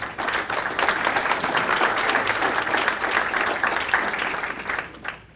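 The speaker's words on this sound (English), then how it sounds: "So give yourself a round of applause." Sustained applause from an audience at a mayor's community breakfast, steady dense clapping for about five seconds before tapering off at the end.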